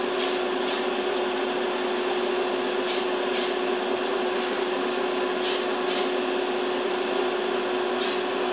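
Short paired bursts of hiss from spray painting the hood of a Tamiya 1/35 jeep model repeat every few seconds over a steady electrical hum, with no talking.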